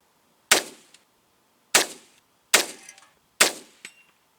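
Four sharp rifle shots crack out at irregular intervals outdoors, each loud and close with a short ringing decay, and nothing else between them.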